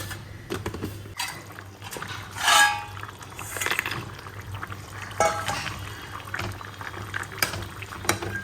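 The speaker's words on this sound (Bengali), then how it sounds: "ফুটে উঠলে বড়িগুলো দিয়ে দেবো।" Sweetened water for a curry heats in a pot on a home stove, giving a faint, steady bubbling and hiss with a few soft clinks over a low background hum.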